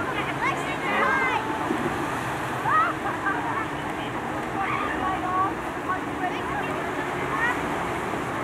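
Ocean waves rolling onto the beach behind a resort pool at an all-inclusive in Playa del Carmen, Mexico, a steady surf wash with wind, with faint crowd chatter and scattered voices in the background.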